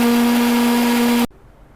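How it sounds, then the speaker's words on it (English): Kitchen blender grinding soaked urad dal with water into idli batter, a loud steady motor whine that runs evenly then cuts off abruptly, leaving near silence. "Now let's close and run the blender again."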